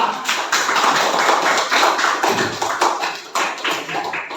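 A room of schoolchildren claps steadily in a dense, close patter of hand claps lasting the whole moment, loud and uneven with a few sharper slaps, and no talking over it.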